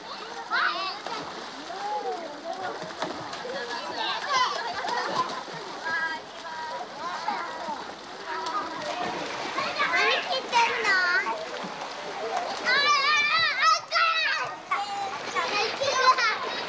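Children splash and play in a pool on a hot day near Fukushima, with continuous water splashing, excited kids' voices and shouts mixed throughout, fairly close and lively.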